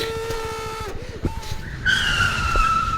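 A vehicle stuck on the Kumara Parvatha trail spins its wheels, with loud skidding squeals and revving engine rising in pitch in surges, close and continuous over rough ground.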